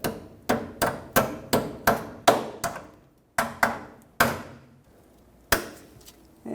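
Hammer tapping a rear center brake hose clip into place on a 2000-2005 Ford Excursion: a run of sharp metallic knocks, about a dozen close blows in quick bursts with short pauses between.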